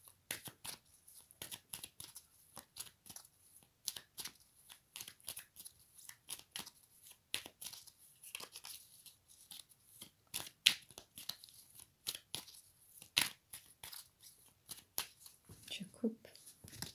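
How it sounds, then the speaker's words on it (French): A deck of tarot cards being shuffled, giving a quiet, continuous run of soft riffling clicks and flutters at close range with brief pauses, while a voice speaks faintly at moments. "je mélange les cartes."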